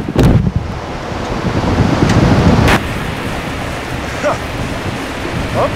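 A powerful climate control system lets out a loud, close rush of air that roars for a few seconds, then drops to a steadier, softer blowing hiss with occasional gusts.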